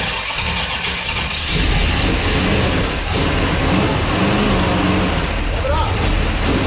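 A small-block Mopar engine, fitted with a freshly charged battery and undergoing cam break-in, turns over and catches, then runs as a loud, steady, close-up roar for most of the clip.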